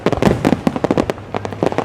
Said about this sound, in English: Look at the fireworks though. This is 4th of July.